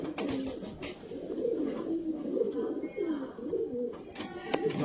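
Caged pigeons cooing close by, repeated soft throaty coos overlapping in a steady rhythm, with faint rustling and no talk.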